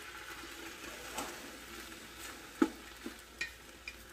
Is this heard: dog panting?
no